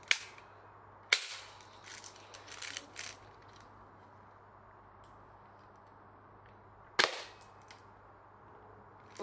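An airsoft gun fires two sharp, loud cracks several seconds apart, with faint clicking and handling noises in between over a quiet background hum.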